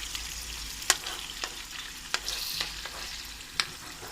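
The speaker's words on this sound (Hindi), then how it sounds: "इसको ऐसे तल लेना है, सबको कबाबों को सबको तलना है।" Seekh kebabs fry in oil with a soft, steady sizzle broken by several sharp clicks and scrapes of a utensil against the pan, heard close with no talk.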